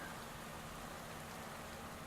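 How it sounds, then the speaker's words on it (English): Rain mixed with snow falls in Pro Cycling Manager 2018 during a Giro d'Italia stage, a steady even hiss of precipitation with no breaks. "Oh, rain snow mix coming down here."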